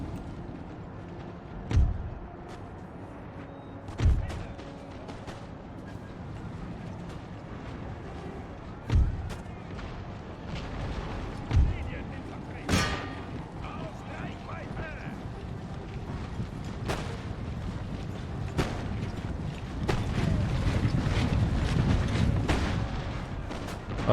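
Musket volleys from army units in Empire: Total War, a Prussian campaign battle, sound as sharp separate cracks every few seconds, then a denser rumble of firing and marching builds toward the end.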